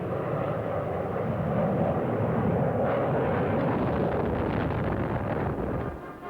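A Grumman A-6 Intruder jet flies past, its engine roar a steady, broad rush with wind noise lasting several seconds before easing slightly at the end.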